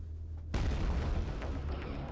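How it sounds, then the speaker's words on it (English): A heavy boom erupts abruptly in Quake 2 and leaves a loud, rumbling low roar that keeps going, with a few fainter bursts following. "you should start hearing some explosions happen"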